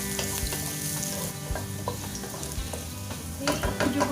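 Chicken pieces sautéing with garlic in a hot pan, a steady close sizzle and frying hiss broken by repeated scrapes and clacks of a utensil stirring, growing busier near the end, with no talk.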